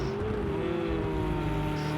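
A loud Aston Martin GTE race car engine in a racing video game at the Red Bull Ring, droning steadily at high revs with a slight rise in pitch over two seconds, with no talk.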